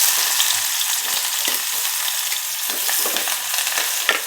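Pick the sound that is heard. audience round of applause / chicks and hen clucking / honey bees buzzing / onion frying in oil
onion frying in oil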